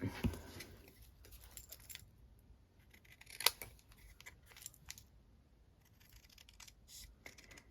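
Scissors snip through a handmade Christmas card, trimming it to size in a few quiet, crisp cuts scattered over a hushed room with faint rustling.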